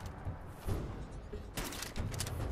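Explosive sniper rifle shots in Fallout 4, a few sharp booming blasts spaced across a short stretch, moderately loud over low background noise with faint talk.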